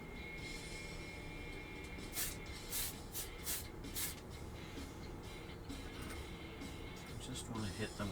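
Short bursts of an airbrush or spray can misting paint onto 1/35 scale K2 Black Panther tank model parts, several hissing puffs in a row close by over a steady room hum.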